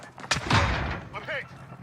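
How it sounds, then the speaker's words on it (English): A door bursts open in the video game Warzone, one loud, sharp close-up crash with a booming low thud, followed by a short muffled tail. No one speaks. "a door busting open as if it was happening literally right next to my ear"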